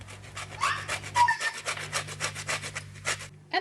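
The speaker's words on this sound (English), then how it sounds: "And the zest of half a lemon." Half a lemon being zested on a grater in a kitchen, with about a dozen even rasping strokes scraping close and loud in a steady rhythm before stopping.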